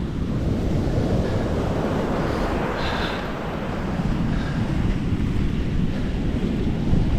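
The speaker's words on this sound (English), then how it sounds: "on the beach now." Waves wash onto a beach in Spain in a steady, loud roar of surf, with gusting wind buffeting the microphone throughout and no voices.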